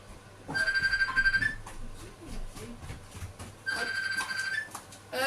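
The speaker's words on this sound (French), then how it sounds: "Téléphone sonne." A telephone rings in two electronic bursts separated by a pause, each several pulses long, moderately loud over steady room noise.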